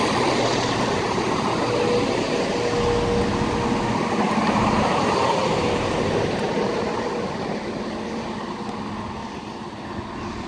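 A ScotRail Class 170 diesel unit at Linlithgow station, heard as a steady, loud rumbling hum with a faint tonal whine that slowly eases in level, no talking.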